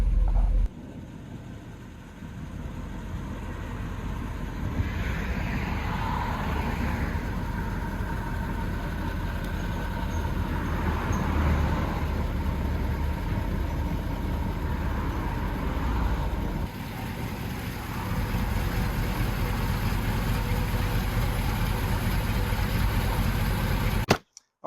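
A Chevrolet squarebody truck engine idles steadily after starting, a continuous low rumble held close and fairly loud for the whole stretch, with no talking.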